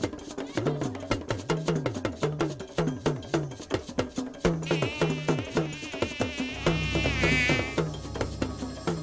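A whining mosquito buzz rises over lively, rhythmic percussion music with cowbell-like hits in a malaria advertisement. The insect drone swells midway, then gives way to a loud, low rumble.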